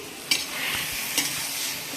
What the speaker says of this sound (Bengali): তাই এখানে চিকেন রান্না হচ্ছে